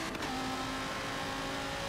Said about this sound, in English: Boy, that Bentley running